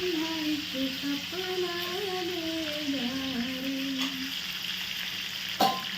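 Pomfret fish frying in a pan at a coastal homestay kitchen, a steady close sizzle throughout, with a voice singing or humming over it and a brief clatter near the end.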